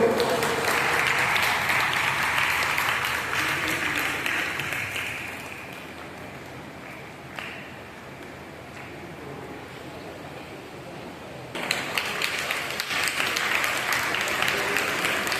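Audience applause at an award function for an Asian Book of Records event, sustained clapping from a crowd that eases to a softer patter midway, then swells again near the end.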